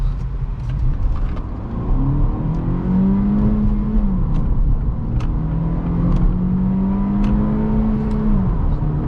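A car running a K-Tuner engine tune accelerates hard in comfort mode on a hot 87-degree day; a loud, steady engine climbs in pitch through two long rising pulls, with no talking.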